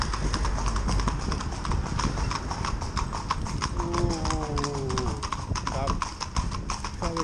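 Steady clip-clop of horse hooves on a hard street, rhythmic and close, with voices talking over it and a brief whinny-like tone midway.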